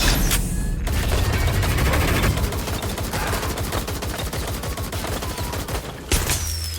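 Sustained automatic gunfire in the Watch Dogs: Legion video game rattles on for several seconds as fast, dense shots overlapping in loud, continuous bursts, with a heavier boom near the end and no talking.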